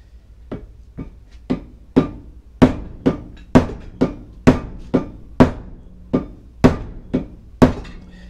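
A hammer delivers about fifteen sharp, evenly spaced blows, striking wood while making a meat axe. The blows come close and loud, steady at roughly two per second, and no one speaks.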